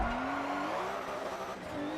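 A Buckaroo Hilux races in Forza Motorsport 7, its engine droning steadily close up, the pitch rising and dipping through gear changes, with a brief tyre squeal as it corners.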